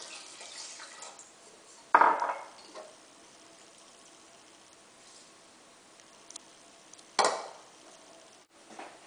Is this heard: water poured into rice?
yes